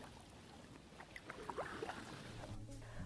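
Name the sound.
kayak paddle backstroke in water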